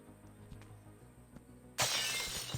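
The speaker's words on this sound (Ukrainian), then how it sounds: "А, може я розіб'ю скло?" Glass shattering in the video game Ice Scream: a sudden loud crash of breaking glass, then a bright scattering hiss of falling shards, after quiet game ambience with soft footstep knocks.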